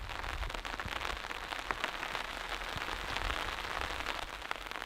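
Steady rain falls on a forest campsite during a storm, a dense, continuous hiss of drops with scattered sharper patters striking nearby surfaces.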